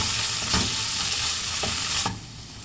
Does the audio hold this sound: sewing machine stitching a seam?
no